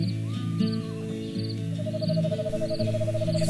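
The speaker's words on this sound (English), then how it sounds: "they are serenaded with the eerie calls of screech owls, the deep calls of hoot owls, and with katydids and crickets" Night chorus in a state park: owls hooting at intervals over a dense, continuous trill of katydids, crickets and other insects, with a steady high pulsing call repeating throughout.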